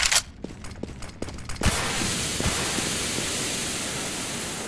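A smoke grenade in the game CS:GO bursts and then hisses steadily and loudly, a broad continuous rush that follows a few brief clicks and taps.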